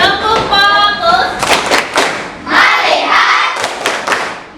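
Schoolchildren in a classroom doing a rhythmic group clapping chant, clusters of claps in a patterned beat mixed with loud chanting children's voices throughout.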